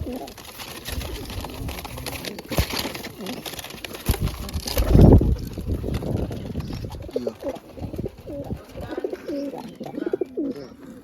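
Pigeons in a rooftop loft kept for pigeon flying, cooing in low throaty repeated calls close by, with scattered knocks and handling noise around them.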